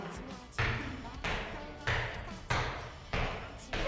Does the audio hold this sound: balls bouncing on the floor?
yes